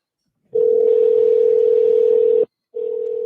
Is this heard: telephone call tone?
yes